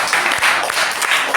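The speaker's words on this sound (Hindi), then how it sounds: "एक बार जोरदार तालियां टीम के लिए" A loud burst of audience applause for a team at a junior Hindi quiz semifinal, many hands clapping close by in a thick, lively patter, with a few faint crowd sounds mixed in.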